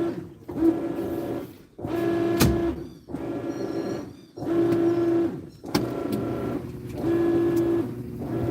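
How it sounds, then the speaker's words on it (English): A washing machine gives off a mechanical whirring much like a printer, coming in repeated bursts of roughly a second or more separated by short pauses, with a steady hum and occasional sharp clicks. "It sounds like a printer."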